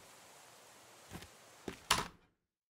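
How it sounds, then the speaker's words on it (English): In a modding video game, a door swings open after its lock is shot: a soft knock, a sharper thunk and then a louder clack, close and distinct, with silence after. "And if I shoot the lock, the door is open."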